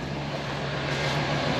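A 1987 square body truck engine runs with a steady, loud droning hum and an even low tone throughout, close by and without voices.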